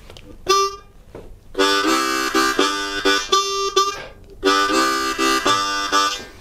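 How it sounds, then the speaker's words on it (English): Harmonica plays a bluesy 12-bar blues riff of sustained draw notes, starting on a 2-hole draw, and short chugging bursts, close and fairly loud, with brief gaps between phrases. "our first riff for this 12-bar blues is going to sound like this"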